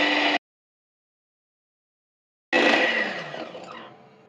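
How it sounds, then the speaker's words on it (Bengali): An electric hand beater whisks eggs and sugar with a steady, high-pitched motor whir in two bursts, a short one at the start and a longer one after a silent gap, which fades gradually toward the end. "যতক্ষণ পর্যন্ত ডিম আর চিনিগুলো একটু ফোমি না হয় ততক্ষণ পর্যন্ত আমি এই বিট মেশিনের সাহায্যে ডিম এবং চিনি ফেটে নিচ্ছি।"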